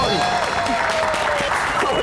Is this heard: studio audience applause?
yes